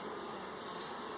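Honey bees buzz at an open hive, a dense, steady, close-up hum that fills the whole moment without any pause or other sound.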